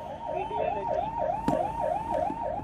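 An ambulance siren wails in quick, regular up-and-down cycles, loud and close, while stuck at a red light at Rajghat crossing in Delhi, over a rumble of road traffic with a brief thump midway.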